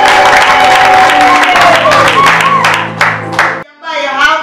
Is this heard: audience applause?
yes